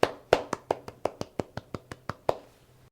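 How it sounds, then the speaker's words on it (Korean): A single pair of hands claps about a dozen times in even rhythm during an online children's church service, each clap sharp and close with a short ring, the pace steady before it stops and leaves quiet. "여러분 칭찬의 박수"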